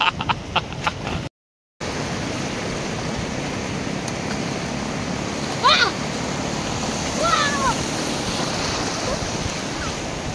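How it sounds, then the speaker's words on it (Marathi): Sea waves wash onto a beach as a constant broad roar with wind buffeting the microphone, and a brief dropout and faint voices break in over the surf. "येऊ दे लाट पकड."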